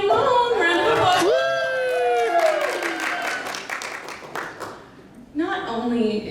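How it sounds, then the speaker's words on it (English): Live audience at a BABSCon 2025 convention panel breaks into applause and cheering, claps and whoops swelling loud for several seconds, with a voice speaking over the start and talk resuming as the clapping fades. "Round of applause."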